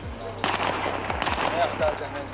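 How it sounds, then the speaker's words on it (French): Sharp bursts of gunfire crack out in an irregular series, several shots close together, at a protest, over a noisy crowd background with voices. "Voilà, vous entendez ces coups de feu."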